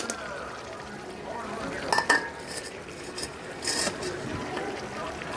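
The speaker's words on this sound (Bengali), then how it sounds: "এখন আলুটা ঢেলে নেব।" Potatoes tipped into a pan of fried chilli, garlic and spices, followed by clinks and scrapes of a utensil stirring, moderately close, with a low frying hiss underneath.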